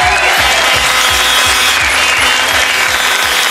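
A studio audience applauds at the French TV show Double Jeu, with loud, dense, continuous clapping. Low, steady rhythmic thumps run beneath it throughout.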